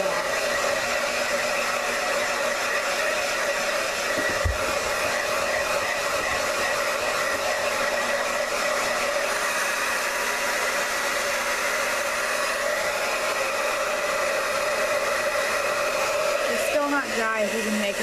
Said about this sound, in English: She's just a blow dryer and she's lovely.